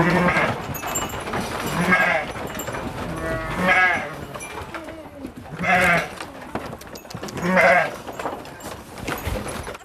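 Goats and sheep on a Thai farm bleat repeatedly from close by, loud calls arriving every couple of seconds over a background of murmuring and farm noise.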